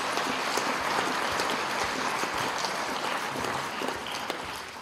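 Applause for students receiving honors at a junior high awards night, a sustained patter of many hands clapping in a hall, even and moderately distant, tapering slightly at the end.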